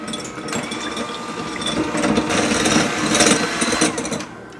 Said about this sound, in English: So the recipe says to only whisk it until it's foamy